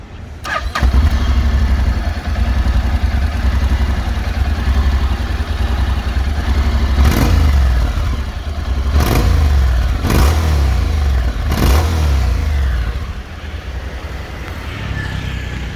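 A 2018 Honda X-ADV750 motorcycle engine starts up, idles with a steady low rumble, then revs sharply in several quick bursts near the end.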